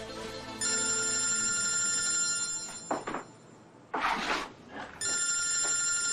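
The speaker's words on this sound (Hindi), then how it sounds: "किसका फोन है अब?" A telephone ringtone trills in steady, tonal bursts, breaking off briefly twice amid short rustling noises before ringing again, fairly loud and close.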